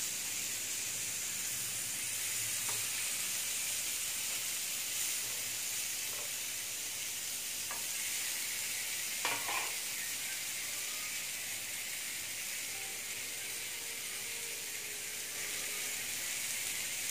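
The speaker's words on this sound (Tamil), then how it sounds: "சிக்கன் கிரில் நல்லா ஃப்ரை ஆயிடுச்சு." Chicken cooking on a grill gives a faint, steady hiss with a few small pops and crackles, continuous and without talk.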